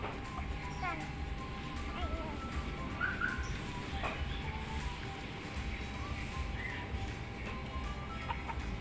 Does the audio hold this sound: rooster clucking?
yes